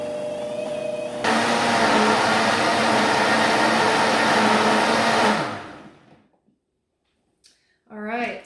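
Vitamix blender whirring through a berry smoothie, a loud steady high-speed roar that ramps up after a softer start, then spins down and stops, followed by silence and a brief clatter at the end.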